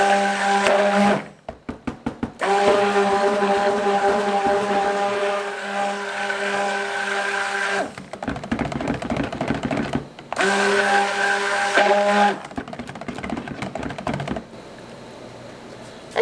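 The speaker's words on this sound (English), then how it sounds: "Just stick blend that titanium dioxide." A stick blender whirs loudly in several bursts, switching on and off with short pauses, its motor buzzing and rattling against cold process soap batter with titanium dioxide.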